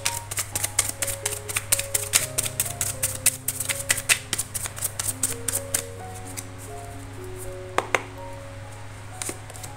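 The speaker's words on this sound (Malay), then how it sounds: "Kita shuffle lagi." Tarot cards being shuffled by hand in quick, steady riffling clicks, close and crisp, over a sustained low hum and faint background tones, tapering off near the end with a couple of last taps.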